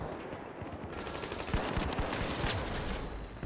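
A minigun fires in a video game, a dense rapid burst of overlapping shots that starts abruptly and rattles on continuously at moderate loudness.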